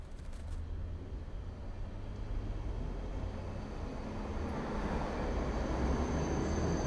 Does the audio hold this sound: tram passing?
yes